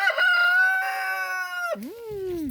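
A rooster among chickens roaming a yard gives one long, loud crow that rises and holds before dropping into a falling tail, heard up close.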